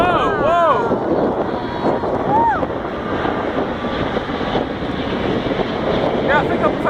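A large jet aircraft weighing over 100 tons roars past at the Farnborough air show, a loud broad rush with wind buffeting the microphone, while onlookers exclaim over it.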